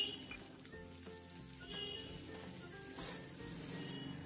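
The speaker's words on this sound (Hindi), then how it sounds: "इनको मध्य आंच में गुलाबी होने तक भूनेंगे हम इसको चलाते हुए" Chopped onions fry in oil in a pan over medium heat with garlic, giving a steady sizzle broken by occasional stirring scrapes, close and moderately loud, no voices.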